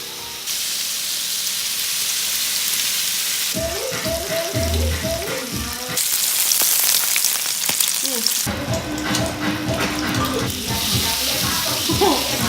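Steady sizzling and crackling of bacon frying in a pan runs throughout, with people talking over it at times.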